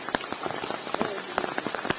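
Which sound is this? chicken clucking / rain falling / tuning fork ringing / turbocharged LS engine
rain falling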